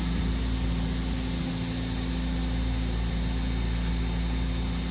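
A HAAS ST-30 CNC lathe spindle spins at its maximum of 3,400 RPM, making a steady, loud mechanical hum with a high constant whine over a low drone. No one speaks.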